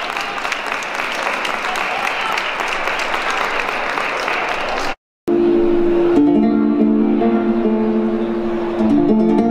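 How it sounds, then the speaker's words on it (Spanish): Audience applause fills the first half at a fairground dance show, steady clapping from a crowd, followed by a cut to music playing. "un aplauso fuerte para Candela"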